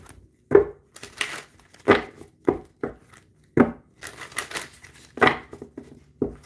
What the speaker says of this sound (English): We're going to continue to do shuffle.